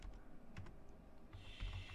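Rapid keystrokes on a computer keyboard while entering VBA code for cell formatting in Excel, an irregular run of close, soft clicks with no voices.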